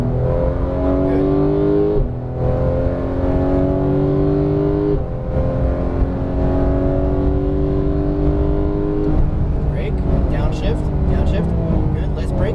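A Porsche 911 GT3 of the 991 generation pulls hard on a racetrack, its engine rising loudly through the revs with a brief drop at each shift, droning close throughout while an instructor talks over it.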